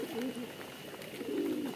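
Pigeons on a farm coo in two low, warbling bursts at the start and end, close by and fairly quiet, with a voice faintly present in the background.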